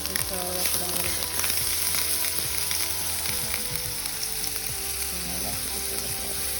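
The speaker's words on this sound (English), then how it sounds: "So what I'm going to do now is actually add a piece to our skillet." A piece of Cajun salmon fries in a hot skillet, giving a loud, steady, close sizzle with faint scraping and clinking from utensils underneath.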